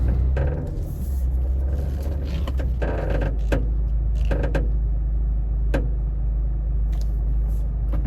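Low rumbling car noise inside a vehicle fitted with cheap MaXpeedingrods coilovers, with intermittent clunks and knocks from the suspension over steady road drone.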